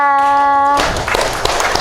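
An audience of women in a TV studio bursts into loud, dense applause after a sustained tone ends, clapping continuing steadily at close range with a voice faintly mixed in.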